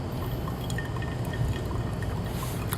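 Hot water poured steadily over ground coffee in a Hario V60 pour-over dripper, a continuous close splashing trickle into the brewing vessel with no talking.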